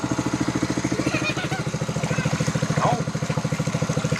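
A small engine motor runs steadily through a hand-made deep well drilling job, its fast regular chugging pulse loud and continuous throughout, with a brief metallic clink partway through.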